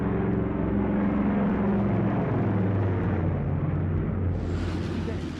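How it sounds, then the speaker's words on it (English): Heavy British and American cargo planes flying over Berlin during the airlift, a loud, continuous, rumbling engine drone that fills the whole stretch without a break. "huge British and American cargo planes fly over Berlin"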